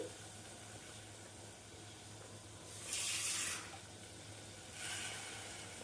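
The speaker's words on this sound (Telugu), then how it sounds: "కొంచెం నీళ్ళు వేసి బెల్లాన్ని కరిగించుకోవాలి" Two short bursts of running water splash into a pot of jaggery, about a second each, over a quiet steady hum.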